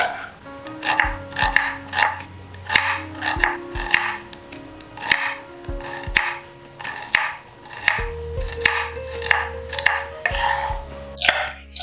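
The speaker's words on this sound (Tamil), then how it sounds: "இப்போ வெங்காயத்தை வந்து கட் பண்ணியாச்சு." A knife slices onions for prawn biryani, giving a steady rhythm of close, crisp cutting strokes on a board, roughly one every second, over a soft, sustained tonal background.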